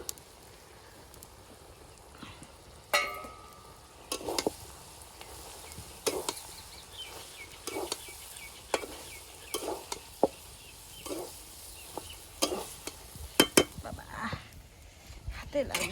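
Panch phoron and crushed dried chilli sizzle in hot oil for an olive sour pickle cooked outdoors in a village, with steady frying hiss broken by sharp stirring scrapes and clatters.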